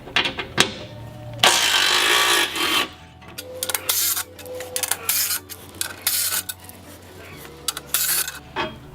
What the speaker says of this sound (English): remove these 5 T45 hex bolts to get this beauty plate off